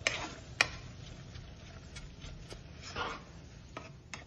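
Butter and milk powder being stirred together in a pan, giving soft scraping and tapping strokes, with a few sharper knocks of the utensil against the pan, close and fairly quiet with no talk.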